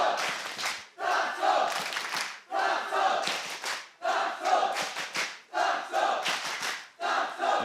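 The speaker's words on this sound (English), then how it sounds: "The crowd digging deep now to get behind Gentlemates." Arena crowd at a VCT EMEA Kickoff Valorant upper bracket final roaring and chanting in rhythmic surges, loud bursts rising and falling about once a second, with cheering swells throughout.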